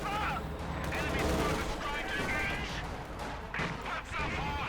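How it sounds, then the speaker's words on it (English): An anti-tank bombing run in the Company of Heroes 2 video game brings repeated explosive blasts and crackling battle noise, loud and rolling across several seconds amid the din of combat. "There you go, anti-tank bombing run here."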